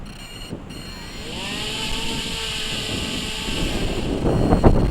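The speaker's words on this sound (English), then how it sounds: "I can hear the wind picking up." Wind buffets a microphone with low rumbling gusts, growing stronger toward the end, while a faint engine drone hums in the background.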